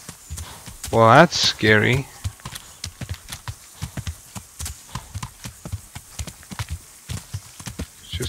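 Horse hooves clip-clop at a steady walking rhythm in Kingdom Come Deliverance, a string of moderate, evenly spaced thuds that continue after a short burst of speech near the start.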